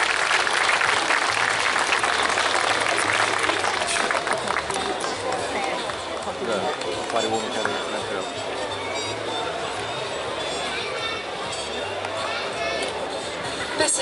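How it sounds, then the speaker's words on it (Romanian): Audience applause at an evening awards gala in Fălticeni, for gendarmes and police officers. Dense, sustained clapping fills the whole stretch, fairly loud, with crowd murmur and a voice underneath. "Și haideți să aplaudăm"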